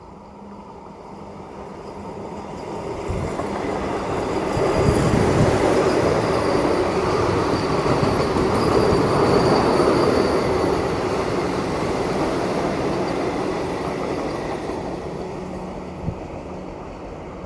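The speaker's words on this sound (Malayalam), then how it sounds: "അങ്ങനെ നമ്മുടെ ബംഗളൂരു എറണാകുളം വന്ദേ ഭാരത് വരുന്നുണ്ട്." A Vande Bharat express train passes close by at Ettimadai railway station on the Tamil Nadu–Kerala border, its rumble building to a steady roar with rattling wheels and a faint squeal, then slowly fading.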